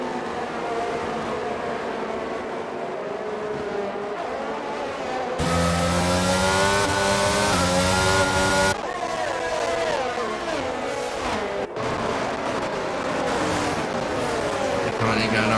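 F1 race car engines in the F1 22 video game at the British Grand Prix, circling behind the safety car, drone loudly and continuously with shifting pitch as gears change, while a voice talks over them at times.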